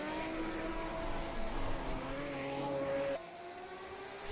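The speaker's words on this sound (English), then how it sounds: "So Gilles de Silva coming into the very tight pit lane." A Group 5 race car enters the tight pit lane at Hockenheim, its engine droning and shifting pitch at moderate distance before the note cuts down abruptly, with no talk.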